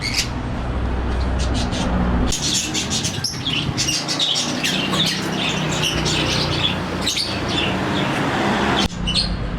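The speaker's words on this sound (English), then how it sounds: "you can get a bird" Birds squawking and chirping on a busy street in Hua Hin, Thailand, repeated sharp calls close by over steady traffic and street noise.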